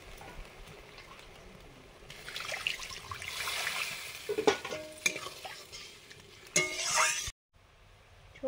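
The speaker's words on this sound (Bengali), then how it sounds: "মশলা কষানো হয়ে গেছে, জল দিয়ে দিচ্ছি পরিমাণ মতো।" Water poured into a pan of fried spices sets off a rising sizzle and bubbling hiss, broken by clanks of a stirring spoon, then cuts off abruptly.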